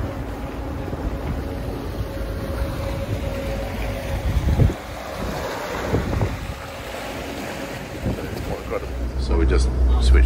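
A Jeanneau NC 37 boat with a Volvo Penta hybrid engine cruises in electric drive at about 5.5 knots, with water rushing and wind buffeting the microphone while a person talks over it.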